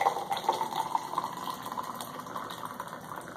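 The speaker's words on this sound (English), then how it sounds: "And now I'm gonna add some hot water to my second glass." Hot water pours into a glass in a steady, continuous trickle that stays fairly quiet and close throughout, with no talking.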